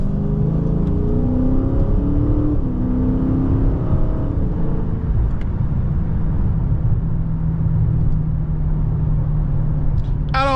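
A 500 HP Dodge Charger Scat Pack accelerating hard from inside the cabin, a loud continuous engine roar that climbs through rising pitch sweeps as it pulls through the gears.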